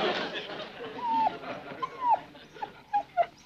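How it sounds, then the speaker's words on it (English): A dog whimpers in a 1960s TV sitcom scene, giving several short, rising whines in a row, with voices and chatter around it. "Oh, it's a dog."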